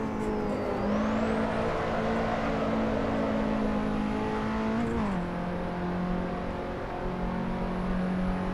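Engine of a KTM X-Bow race car lapping Silverstone in the Assetto Corsa racing game, a steady loud drone that holds, dips briefly on a gear change or lift near the middle, then climbs again.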